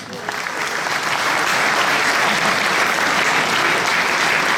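Dense, sustained applause from a large audience in a hall at a political anniversary gathering, loud and even throughout with no pauses, as the crowd claps for a marquis being introduced.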